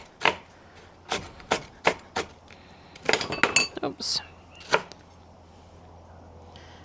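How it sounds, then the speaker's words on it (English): Oreo cookies being broken and chopped for a no-bake chocolate mint cheesecake: a run of sharp, close cracks and knocks against a board or dish, some clustered, with a brief spoken exclamation between them. "now we're going to break up some Oreos to mix through."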